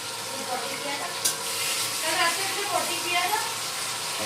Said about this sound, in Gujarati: તેલમાં વઘાર થાય છે પનીરના શાકનો